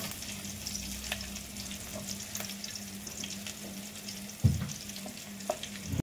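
Green chillies fry in a hot pan with steady sizzling crackle, and a spoon stirs them, giving scraping clinks and one sharp knock near the end; no talking.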